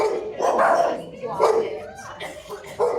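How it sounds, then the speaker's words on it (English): Dogs at a manners training class bark several times in short, close bursts, sharp yips and woofs spaced irregularly over a few seconds. "Why are they barking at us?"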